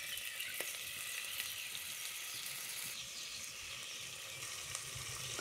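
Ginger garlic paste roasts in hot oil for biryani, giving a steady, close sizzle with a dense frying hiss that continues unbroken, with a brief stir partway through and no voices.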